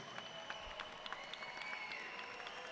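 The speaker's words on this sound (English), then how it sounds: "a round of applause for both of the fighters in this cage" A crowd at a PFC11 mixed martial arts cage fight applauds both fighters: faint, distant clapping and crowd noise beneath a steady background hum.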